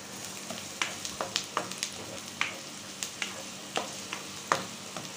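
Garlic sizzles in hot oil in a pan while adobo is being cooked, a steady bed of frying noise broken by crisp pops and spatters at irregular intervals, close and moderately loud with no voices.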